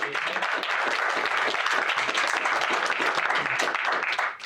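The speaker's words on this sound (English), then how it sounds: "Nice applause for our panelists." Dense, sustained applause from an audience at a Denver climate panel discussion, a continuous wash of many hands clapping at steady loudness before tapering off at the end.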